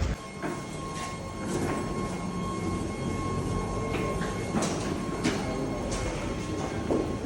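A Paris metro train on Line 8 rumbles steadily along the rails with rhythmic clatter and occasional squeals, a constant nearby roar with sustained tonal hums throughout.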